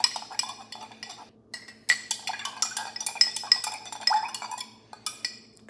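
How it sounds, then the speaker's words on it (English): A knife stirs a blue raspberry L-citrulline and orange juice drink, its blade clinking and scraping against the glass in quick irregular bursts, close and fairly quiet. "Even better, stir with a knife."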